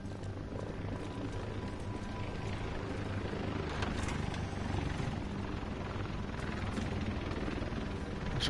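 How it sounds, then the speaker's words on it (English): Helicopter rotor thudding steadily in The Division 2 video game, a continuous loud whirring drone over game music, with no talk. "It's a helicopter."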